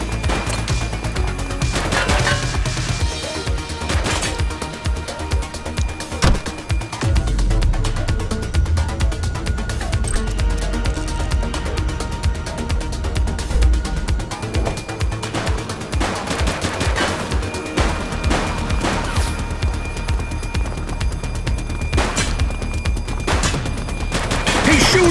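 Gunfire in the police video game The Precinct, rapid bursts and fusillades of shots crackling continuously and loudly, with shouted voices mixed in.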